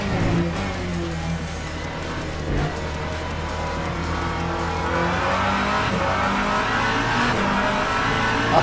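A hypercar engine howls at full throttle in a racing video game, a loud, steady high-revving drone that climbs in pitch, with faint tyre squeal and no voices.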